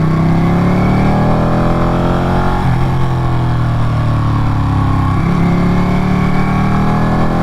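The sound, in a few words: Ducati Panigale 959 motorcycle engine while riding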